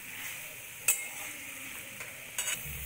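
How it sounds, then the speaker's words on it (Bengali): Fried cauliflower stirred into spiced oil in a pan gives a soft, steady sizzle, broken by a couple of brief scraping clinks of the spoon against the pan, with no talking. "এবার আমি এর মধ্যে দিয়ে দেব ভেজে রাখা ফুলকপি। নেড়ে ছেড়ে মিশিয়ে নেব ভালো করে।"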